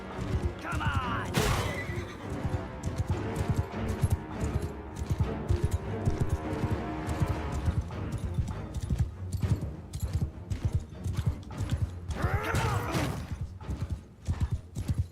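Horse hooves clip-clop steadily through a Mount and Blade II: Bannerlord battle, with loud neighing and whinnying rising above them at the start and again near the end, over dense combat noise and some talk.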